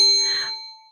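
A single bell strikes once with a clear, bright metallic ding that rings on and fades over about a second, heard alone.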